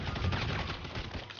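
A short, dense burst of rapid gunfire in GTA Online, loud and continuous without pause.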